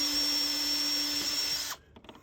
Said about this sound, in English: I will now drill the other 2 holes and install